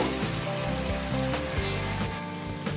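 Water poured into ginger-garlic paste frying in a pan sets off a loud, dense sizzle and hiss that fills the short moment with no talk.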